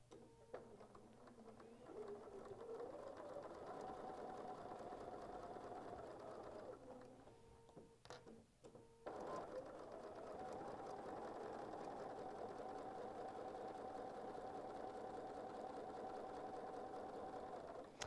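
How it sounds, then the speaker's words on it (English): A sewing machine stitches a quilt line with a steady mechanical whir. A brief pause and a few clicks come partway through as the quilt is turned, then the stitching resumes at an even pace, close and fairly soft. "Now I'm going to turn it and I'm going to sew down the other side."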